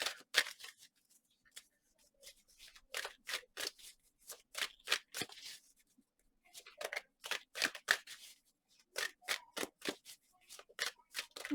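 A deck of tarot cards is shuffled for a reading, giving bursts of crisp riffling and snapping card sounds in quick runs separated by short pauses, close and fairly quiet.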